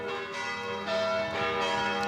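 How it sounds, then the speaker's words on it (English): A church bell tolls at noon, ringing out with rich sustained overtones and a fresh strike just before the midpoint, resonant and fairly close, with no talking. "After the bell tolls, that means it's noon."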